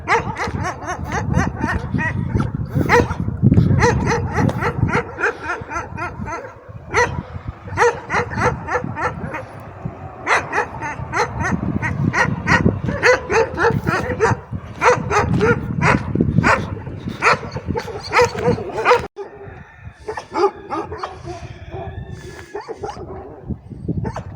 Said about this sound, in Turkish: Köpekler de var.